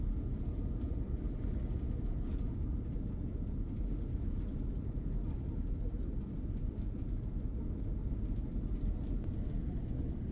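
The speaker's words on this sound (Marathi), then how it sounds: "टेक ऑफ होत आहे" Airliner taking off, heard from inside the cabin: a steady, loud low-frequency engine roar and rumble that holds without a break throughout.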